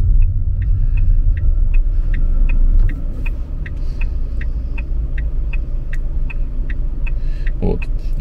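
A car idles and creeps toward a parking spot while the turn signal ticks in a steady, even rhythm. A low engine rumble runs throughout, and a soft thump lands near the end.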